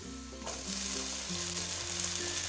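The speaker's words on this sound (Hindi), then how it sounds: "अब मैं इसमें डालूंगी हरी मिर्ची और टमाटर।" Green chilies and tomato hitting hot oil with lightly browned onions in a pan for a chicken salan, a steady close sizzle and frying hiss running without a break, with no talk.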